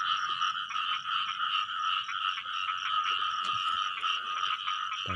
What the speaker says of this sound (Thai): กบเด้อครับนะกบ